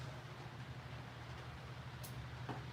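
A model train pulling 33 cars runs at slow speed with a low, steady mechanical hum and faint rolling rumble, quiet and continuous with a couple of small clicks.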